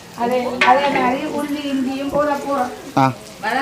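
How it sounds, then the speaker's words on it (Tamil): Onion, green chili, fennel and mustard fry in a pan for chicken curry, a hissing sizzle running underneath a person talking close by. "வெங்காயம் பச்சை மிளகாய் பெருஞ்சீரகம் கடகு எல்லாம் போட்டு கொண்டு இருக்கிறோம்"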